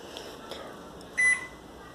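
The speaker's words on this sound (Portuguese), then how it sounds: "Agora vai pro micro-ondas." A microwave oven hums quietly while baking a cake, then gives a single short electronic beep near the end.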